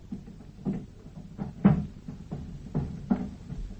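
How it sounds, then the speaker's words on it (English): In a radio drama, furniture is dragged and shoved against a door to barricade it, producing several dull thumps and scrapes at irregular intervals, muffled as if heard from the other side. "Sounds as if he's moving the furniture about. He's barricading the door."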